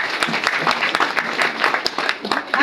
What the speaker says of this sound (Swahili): Niwapongeze sana na mjipigie makofi.